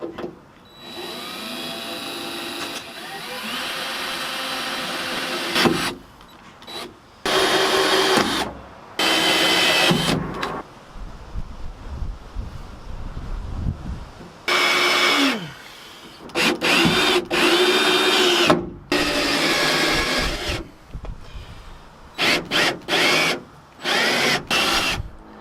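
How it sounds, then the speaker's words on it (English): A power drill whirs in repeated bursts while drilling holes in a Dentside truck body, starting and stopping several times with short pauses between, loud and close. "now we're gonna screw in, or drill in some holes right here,"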